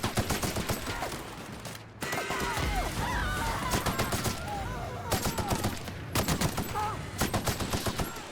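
Rapid bursts of gunfire in the Outer Worlds video game, volleys of shots repeating in clusters with brief gaps, loud and close, amid chaotic combat noise and some game voice sounds.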